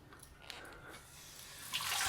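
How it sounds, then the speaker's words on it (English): Water runs from the tap of a marble sink made of Pyrenees stone in a château stable, a faint steady gush that swells louder near the end. "The water is working here."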